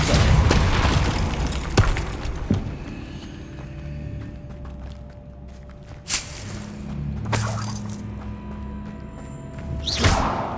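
A Depulso spell is cast in Hogwarts Legacy: booming magical blasts and whooshes with shattering impacts, separated by quieter game ambience and a final loud burst.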